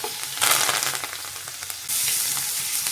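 Garlic, ginger, green chili and curry leaves sizzle hard in hot oil with asafoetida, a bright steady crackle that surges as they drop in and jumps louder again near the end, close and with no voices.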